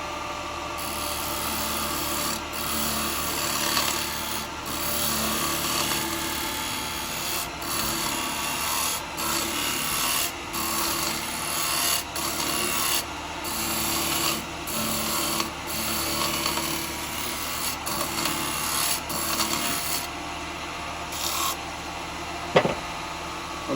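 Wood lathe spinning at 2,180 RPM while a chisel undercuts the workpiece, giving a steady close rasping, scraping whir with small rhythmic scuffs throughout and a sharp knock near the end.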